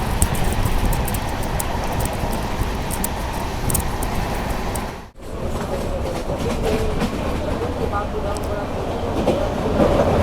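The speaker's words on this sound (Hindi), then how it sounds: "हमारी ट्रेन यहाँ क्रॉस कर रही है राप्ती रिवर को।" The 12556 Gorakhdham Express rolls across the Rapti river bridge, a loud, continuous rumble with clattering wheels and rail noise heard from inside the coach, with a brief dip midway.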